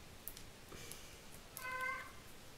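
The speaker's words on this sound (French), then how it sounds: "Oups, désolée, c'est mon chat." A domestic cat gives a single short meow close by in a quiet indoor room, preceded by a few faint clicks.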